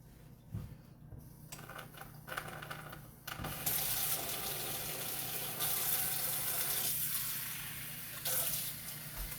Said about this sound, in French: j'ai mis de l'eau dans mon petit bol